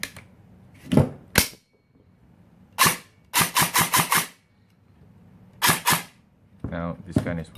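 A Celcius AKM airsoft gun with newly installed electronics test-fires in sharp snapping shots: two single shots, a lone shot, a quick burst of five, then another pair, with the mechanism whirring briefly at the end.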